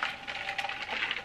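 Ice cubes clinking against a glass as iced coffee is stirred, a quick series of light, close, bright rattles lasting about a second.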